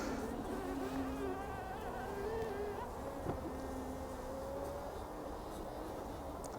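Bees buzz at an open poly beehive, a continuous close drone with individual wingbeats weaving past, steady throughout with a brief knock near the end.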